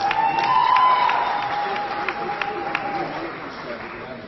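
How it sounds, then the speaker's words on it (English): An audience at an academic ceremony honoring professors gives sustained applause that swells early and gradually tapers off, with a host's amplified voice carrying over the clapping. "A big, big, big round of applause."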